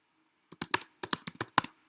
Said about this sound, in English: start your node by typing beam node